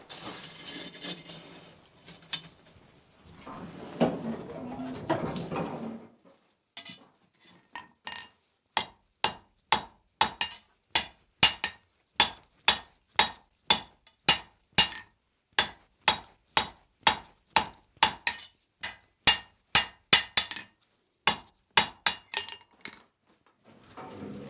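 Hammer blows tapering a 1.5 by 3/16 inch steel flat bar on an anvil for an 18th-century strap hinge, a long run of sharp, evenly spaced ringing strikes up close after a stretch of quieter shuffling.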